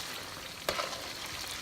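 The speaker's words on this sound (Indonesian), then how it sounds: "Ini digoreng di api yang panas ya guys," Chicken pieces frying in hot oil give a steady, dense sizzle with a brief sharper crackle partway through.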